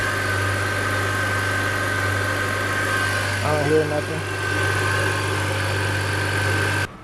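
A BMW E39 engine idles smoothly and steadily close by, a constant low hum with a faint whine on top, while someone talks briefly partway through.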